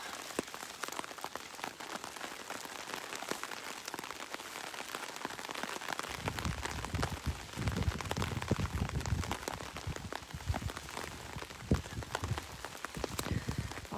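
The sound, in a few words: rain falling at outdoor tribal council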